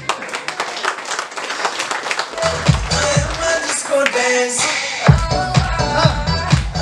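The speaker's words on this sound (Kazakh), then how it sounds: "Енді сіздердің шапалақтарыңызбен көрейік." Audience applause at a lively Kazakh family game-show event: dense, steady clapping from a crowd, mixed with loud music and beats.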